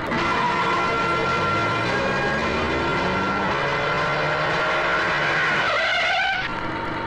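Car driving into a no entry road in a Hindi film scene, a continuous engine whine and road noise with rising and falling tones, loud and close, cutting off near the end.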